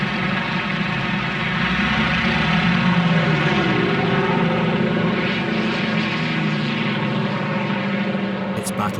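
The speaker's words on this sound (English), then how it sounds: "Wave after wave of Corsair and Sky Raider fighters attack the north." Propeller fighter aircraft, Corsairs and Skyraiders, flying attack runs over Korea during the Korean War, a loud continuous engine roar that holds steady throughout with no pauses.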